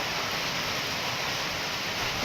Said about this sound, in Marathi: सुटलंय वारं, हा बघा वारं सुटलंय आता